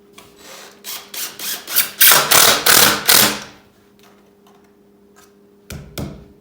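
A regular power drill drives a screw into wood, rising through a run of quick whirring bursts that build into a loud grinding stretch, then stops, with a brief final burst near the end.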